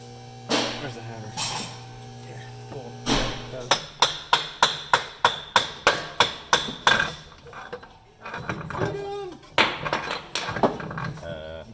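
Sharp metallic hammer blows ring out on C8 Corvette parts in a garage, a fast steady run of about a dozen strikes in the middle with scattered hits before and after, amid people talking.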